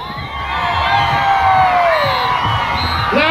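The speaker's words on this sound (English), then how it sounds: "Let me hear you scream." A crowd of children and adults screams and cheers loudly together at close range, a dense sustained roar of high-pitched shrieks and whoops that holds steady throughout.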